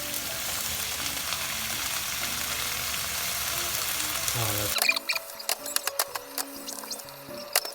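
Vegetables, including cabbage, go into a pan for Korean duruchigi and sizzle loudly as the moisture cooks off. The frying dies back abruptly partway through and is followed by scattered clinks and scraping from the pan.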